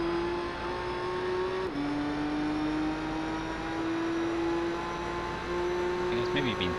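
A Toyota Supra race car in the Gran Turismo 3 video game pulling into the pits, a steady droning engine note that dips in pitch once and then holds, heard under continuous commentary.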